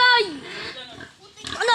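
Pig grunts and oinks at a livestock buying spot, mixed in with people talking loudly over them.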